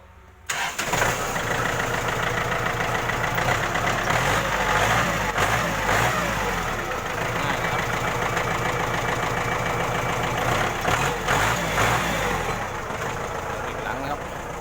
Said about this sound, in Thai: เดี๋ยวฟังเสียงเครื่อง นะครับใส่ท่อซิ่งเรียบร้อยนะครับ